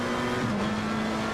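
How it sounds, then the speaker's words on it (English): A GT race car in a simulated esports race at Mount Panorama Bathurst drones along at a steady high engine pitch, held loud and constant for a moment with no talk over it. "So Colin Mullen in the number 4 car heads onto the back straightaway and really having a good run down the hill."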